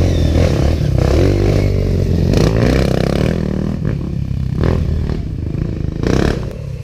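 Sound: 125cc motorcycles riding on a dirt trail

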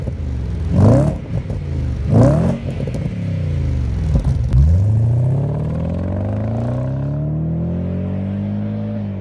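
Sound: Audi S6 4.2 litre V8 engine running

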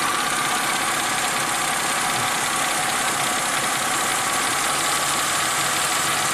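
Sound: engine running and idling as RPMs are adjusted

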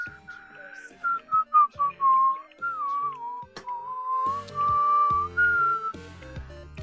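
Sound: person whistling

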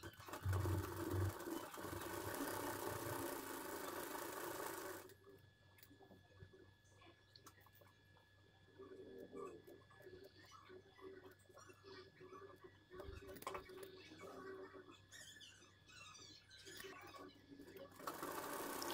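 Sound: sewing machine stitching a blouse back neck

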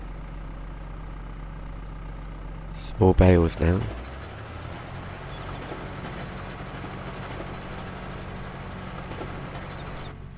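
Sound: farm vehicle engine idling

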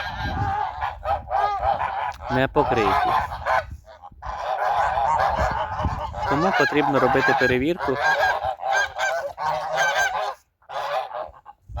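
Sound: geese honking

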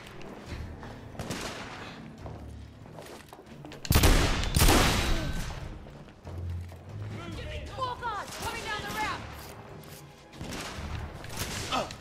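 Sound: gunfire in the video game The Order: 1886

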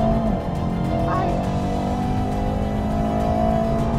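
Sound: Audi RS6 and Mercedes-AMG E63S accelerating in drag race

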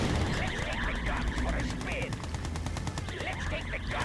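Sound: machine gun fire in the video game Red Alert 2

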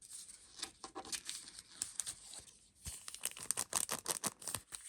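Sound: unwrapping paper surprise packages

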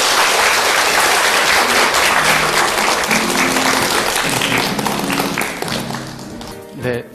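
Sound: audience applause

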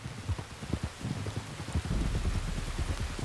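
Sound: rain in video game Red Dead Redemption 2

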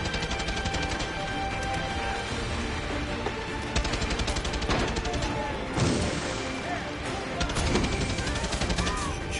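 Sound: gunfire in Far Cry 6 video game

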